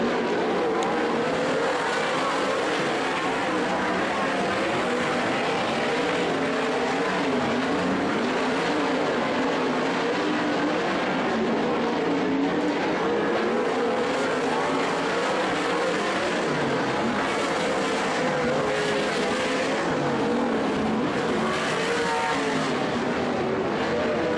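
360 sprint race cars roaring around the Skagit Speedway track in a heat race, a dense, continuous engine howl that stays loud and steady throughout, with rising and falling pitch as the field circles.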